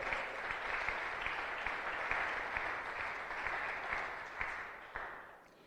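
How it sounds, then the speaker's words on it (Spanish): A church congregation applauding the King of Kings, sustained dense clapping from many hands with a few sharper claps standing out, fairly distant, tapering off at the end. "Más fuerte el aplauso al Rey de Reyes"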